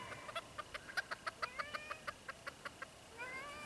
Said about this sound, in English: Those are miniature chickens. I can't believe they're crowing.